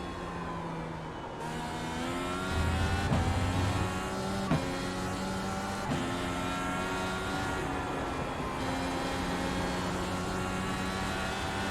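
An IndyCar IR18 race car in iRacing at Canadian Tire Motorsport Park, its engine droning steadily with shifting harmonic tones as the revs rise and fall through gear changes, loud and continuous with no talking.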